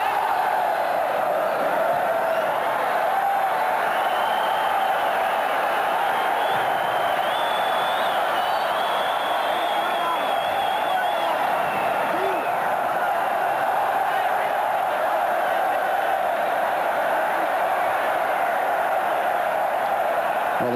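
Spanish football crowd in a stadium during a Ukraine–Spain semifinal, a continuous dense roar of cheering and chanting from a large crowd, with a commentator's voice running through it.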